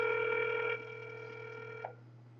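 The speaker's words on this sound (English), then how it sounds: "So we got the phone ringing." An outgoing telephone call rings on the line, a quiet electronic ringback tone that holds steady and then cuts off, with no one speaking.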